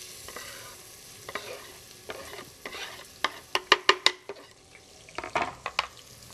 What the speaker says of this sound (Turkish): Soğanımız kavrulmaya başlandı.